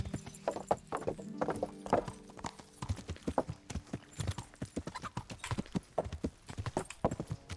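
Horse hooves clip-clop at a quick, steady gallop in Kingdom Come: Deliverance, the beats sharp and close, with a low droning hum running beneath the first half.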